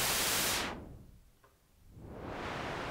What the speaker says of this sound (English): Same goes for the pink noise.